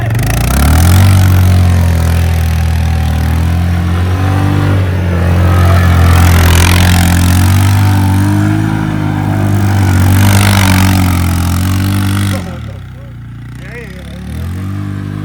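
Loud, close motorcycle engine holding a steady drone with swells of revving in an open field, people talking over it, before the engine sound cuts out near the end.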